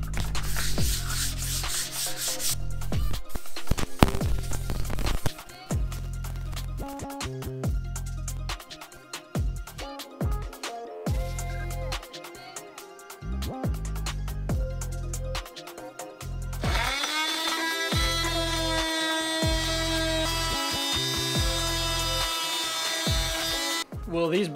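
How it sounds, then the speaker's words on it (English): Wet sanding fresh paint on a V4 street fighter motorcycle build with 1000 grit sandpaper: steady, repeated rubbing strokes close by, running for most of the stretch with music playing underneath. "We're gonna sand it down, wet sand it with 1000 grit and get all the lint off of there"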